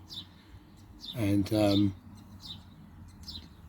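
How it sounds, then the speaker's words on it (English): Small birds chirp in short, faint bursts in a quiet outdoor spot, with someone speaking briefly in the middle. "sometimes it's a bit like sitting in the garden, as you can hear the birds."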